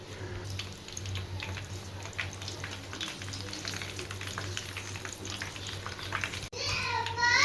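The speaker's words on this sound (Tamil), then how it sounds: "இதுலேயே ரெண்டு பச்சை மிளகாவையும் பொறிச்சு எடுத்துக்கலாம்" Green chillies frying in hot oil while chicken 65 is made, a steady close sizzle and crackle running throughout with faint background noise and a brief burst of stirring near the end.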